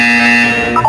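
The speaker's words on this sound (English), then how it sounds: "When you hear the buzzer, look down at the floor." A short electronic buzzer from the Portal 2 video game sounds as a steady, loud tone lasting under a second, then slides into a brief higher blip at the end.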